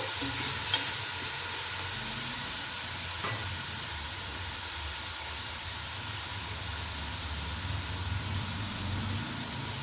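Chicken pieces fry in a pan for noodles with a constant loud hissing sizzle, steady and close, and a couple of faint stirring taps in the background.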